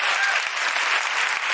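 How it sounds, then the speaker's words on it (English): Applause from an audience at a live queer comedy show, a steady dense wash of clapping throughout, fairly loud and close, with no voices over it. "Big round of applause for Chris, Lani-McAllister, Abigoliah Schamaun."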